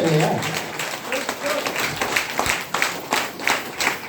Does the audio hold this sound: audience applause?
yes